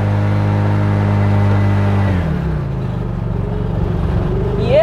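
An auto rickshaw (keke) engine runs loud and steady while driving on a busy road, its pitch dropping and shifting as it changes speed, with a rising rev near the end.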